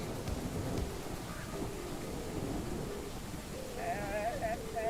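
Steady video game rain hisses throughout with low rumbling underneath, and faint warbling tones drift in near the end.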